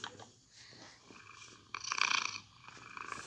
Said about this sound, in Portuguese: Mas é meu gatinho dormindo comigo.